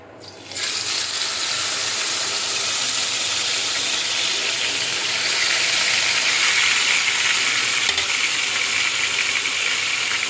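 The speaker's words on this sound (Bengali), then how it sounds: "এখানে আমি তেল দিয়ে দিয়েছি। হোটেল স্টাইলে ভাজবো।" Meat fries hotel style in hot oil in a home kitchen, a loud, steady, close sizzle that starts abruptly and carries on without a break.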